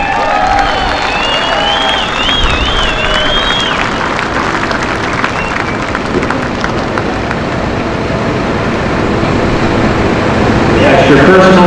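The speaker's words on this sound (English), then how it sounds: "Ladies and gentlemen, a round of applause for the man," A crowd at Summit Motorsports Park applauds Ken Veney, the Grand Marshal, in a broad, continuous wash of clapping and crowd noise, with a voice speaking over it near the start.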